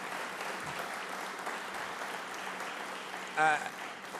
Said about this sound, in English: Please give them a big round of applause for their commitment.